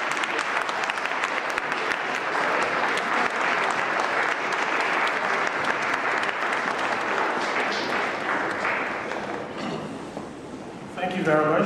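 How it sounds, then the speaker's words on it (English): An audience claps steadily in sustained applause for several seconds, fading out near the end as a voice begins to speak. "Can we give another hand of applause, please?"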